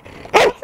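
A pet dog gives one short, loud bark close by, then a faint yip, with no talk over it.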